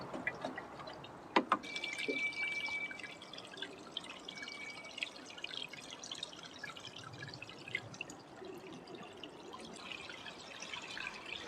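Water trickles and drips steadily onto freshly transplanted potted plants after repotting a pot-bound plant, with a soft, continuous splashing and a few sharper drips near the start, close by and fairly quiet.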